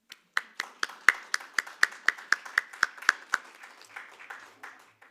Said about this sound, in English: if you'll join me in welcoming our panelists with a round of applause